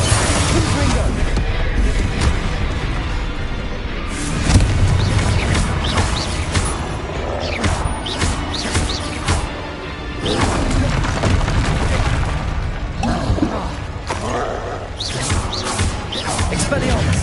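Bombarda and Confringo spells blast in the Hogwarts video game as a wizard duel rages. A dense, loud run of booming impacts and crashes repeats in quick succession, with voices over the battle.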